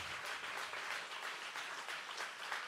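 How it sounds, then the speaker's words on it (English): A crowd applauds a veteran band musician at a live show on a campus stage, steady even clapping at moderate distance, unbroken throughout. "you can give him a round of applause because he's a legend right here"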